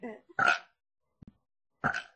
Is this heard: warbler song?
no